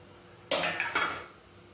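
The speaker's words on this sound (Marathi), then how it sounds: "हे झाकण आता काढून घ्यायचं आहे" A metal lid is pulled off a pan of semolina dhokla after fifteen minutes of steaming, giving two quick clanks close by in an otherwise quiet kitchen.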